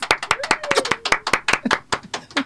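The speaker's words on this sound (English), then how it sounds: "Let's give her a round of applause" An audience gives a round of applause for a woman at a DJ and friends event, with loud, rapid, distinct claps close by. Faint talk and cheering sound under the clapping.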